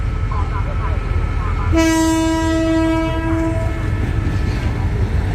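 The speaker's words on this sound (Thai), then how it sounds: "ได้เวลาทางสถานีปล่อย รถ แล้วครับ" A southern line passenger train in Thailand departs a station and gives a clear, loud horn blast lasting about two seconds. A continuous low rumble of the train runs underneath.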